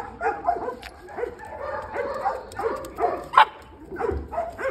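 Small puppy meeting a large Belgian Malinois indoors, with soft repeated whimpers and yips and a few close barks in short bursts throughout, under quiet background noise.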